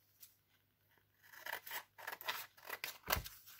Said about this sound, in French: je coupe une bande